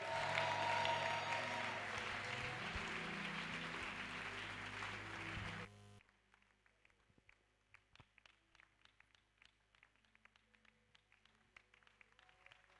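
A church congregation claps and cheers in a loud, dense wash of applause for about six seconds, then it cuts abruptly to scattered, quieter rhythmic claps.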